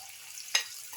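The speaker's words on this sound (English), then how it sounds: "the onion chickpea flour mixture into the oil and let it fry" Onion and chickpea-flour fritter batter frying in hot oil gives a soft, steady hiss, with one brief louder sizzle burst as the mixture meets the oil.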